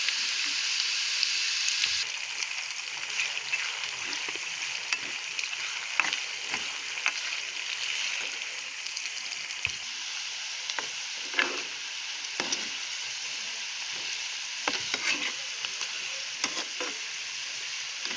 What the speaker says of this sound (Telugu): స్టవ్ లో ఫ్లేమ్లో ఉంచి వీటిని ఇలా ఫ్రై చేసుకుందాం.